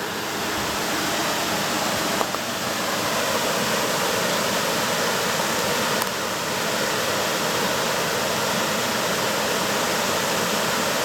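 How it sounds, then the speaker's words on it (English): Eel Weir Brook waterfall running strong in mid-July, a constant full-bodied roar of falling water, broadband and steady throughout with no voices. "It's an impressive amount of water flowing for the 14th of July"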